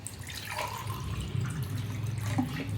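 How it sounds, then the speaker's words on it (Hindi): Tap water runs steadily into a drinking glass in a home kitchen, a continuous close pour with a faint trickling texture and no speech. "मस्त 1 गिलास पानी भर लिए।"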